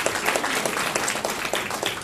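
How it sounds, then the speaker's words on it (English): An audience breaks into applause at a talk, a dense patter of many hands clapping steadily at moderate volume for the whole stretch with no one speaking over it. "applaud Whole Foods"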